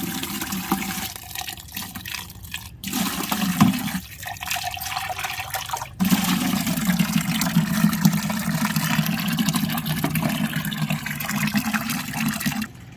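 Liquid plant feed pours out steadily onto garden plants and rose bushes, a continuous splashing trickle with a short pause partway through.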